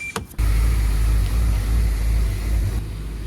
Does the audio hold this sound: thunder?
no